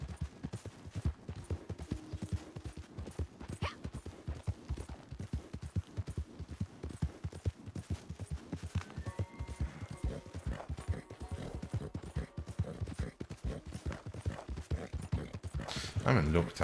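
A horse in Red Dead Online gallops at full speed, its hooves drumming in a fast, steady, close rhythm throughout while someone talks over it.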